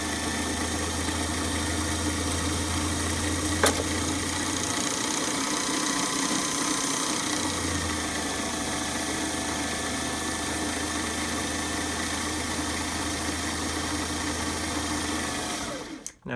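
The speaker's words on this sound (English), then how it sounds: "Then you press your foot on the pedal and you wind the bobbin." A Singer 457 sewing machine winds its bobbin with the motor disengaged from the sewing mechanism, giving a steady close motor hum that changes pitch partway through and cuts off at the end.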